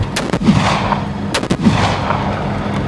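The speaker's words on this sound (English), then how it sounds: "firing main armament, which is the 40mm and the coax machine gun" A Warrior CSP armoured vehicle fires its 40mm cannon and coax machine gun on a range, two loud, sharp, close blasts about a second apart, each followed by a rolling echo.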